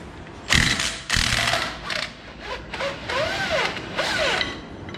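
Impact wrench with a socket removing a spindle nut during king pin and spindle bearing work on a first-generation Cummins truck, close and loud with sharp rattling bursts and a whirring, metallic clatter.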